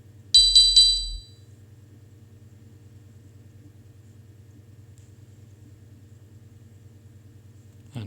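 The XCTrack app gives a waypoint proximity alert, a bright triple-beep chime over a low constant hum. A long stretch of steady droning follows, with a faint new sound starting at the very end.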